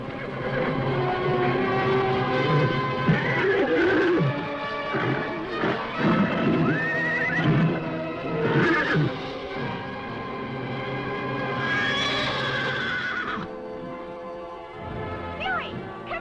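A white stallion neighs and whinnies amid a busy 1950s television soundtrack, with shouting voices, thudding hooves and scuffling heard over dramatic background noise.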